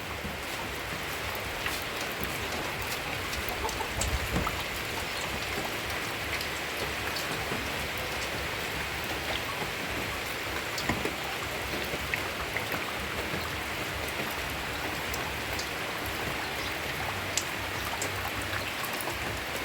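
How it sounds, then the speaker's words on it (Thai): Rain pours steadily in rural Thailand, a continuous wash of raindrops hitting surfaces that holds an even, moderate loudness for about twenty seconds, with no voices. "ฝนตกฝนตก"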